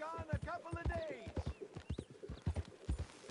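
Horse hooves clip-clop in a steady, close walking rhythm in the Western video game Red Dead Redemption 2, while people talk over the hoofbeats.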